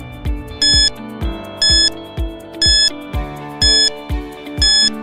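Quiz countdown timer of five evenly spaced bright electronic beep bursts, roughly one per second, each following a ticking low note pattern, loud and clear with no talking.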